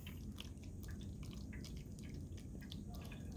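Water poured into a tall cone to fill it to the top, a continuous soft splashing and trickling with small drips, heard close and fairly quietly.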